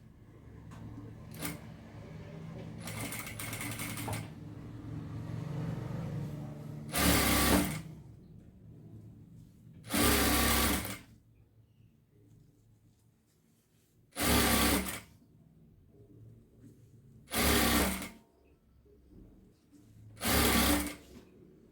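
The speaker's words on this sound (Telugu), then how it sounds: "కుట్టు వేయాలి" A sewing machine stitches thread piping in five loud, separate bursts of a few seconds each, with quiet gaps between them, after some softer handling and mechanical noise at the start.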